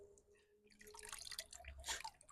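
Liquid drips from a small batch of compost, a few soft, close drips followed by wetter splattering, quiet overall.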